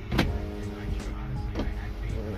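An electric power window motor whirs as the glass moves on a Toyota Camry during a vehicle inspection. The close, steady mechanical hum runs under a few clicks and bumps from the door.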